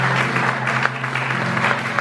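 Steady applause from a church congregation, a dense wash of clapping that holds at an even level throughout with no voices.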